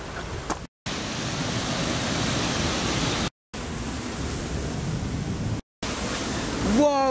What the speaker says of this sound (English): We're at a little river waterfall bit.